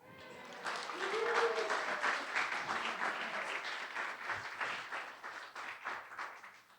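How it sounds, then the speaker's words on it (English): A warm round of applause from a seminar audience, dense clapping that swells quickly and then holds steady before slowly thinning out, loud and close with no voices over it. "I would like you to give a warm round of applause to me."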